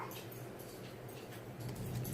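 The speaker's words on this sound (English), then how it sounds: "these dogs are already getting a little too riled up" Several riled-up dogs whimper and yip faintly against a steady background hum, with soft, uneven bursts throughout.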